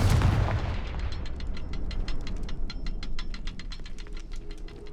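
A Confringo fire spell blasts in Hogwarts Legacy with a loud, booming burst at the start. A long run of sharp crackling ticks and rattles follows and slowly fades.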